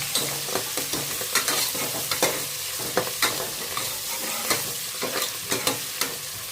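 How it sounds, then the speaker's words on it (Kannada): Onion and fenugreek leaves frying in a pan, a continuous close sizzle with regular scraping stir strokes of a spatula throughout. "ಸ್ವಲ್ಪ ಫ್ರೈ ಮಾಡ್ಕೊಳ್ಳೋಣ ಚೆನ್ನಾಗಿ. ಇದು ಮೆಂತ್ಯ ಸೊಪ್ಪು ಮತ್ತು ಆನಿಯನ್ ಎರಡು"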